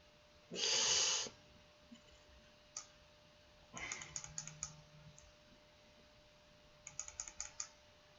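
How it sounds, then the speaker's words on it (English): Computer mouse clicked repeatedly during a GeoGuessr game: quick, faint clusters of sharp clicks heard close by, following a brief burst of noise. "Yes, I'm clicking a lot more than I need to be."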